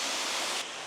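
A big waterfall roars as a dense, steady wash of falling water, loud and close, filling the whole brief moment before dropping slightly in level.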